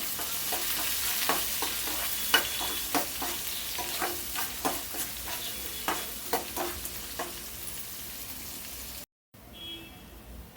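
Sliced onions fry in hot oil with garlic, curry leaves and dry chillies for okra fry curry, a steady sizzle broken by repeated spoon scrapes and stirring knocks at an uneven rhythm, close by and without voices.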